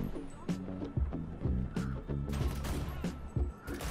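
Rapid bursts of gunfire in the video game GTA crackle and pop in quick succession, with sharp repeated shots layered over a steady low rumble.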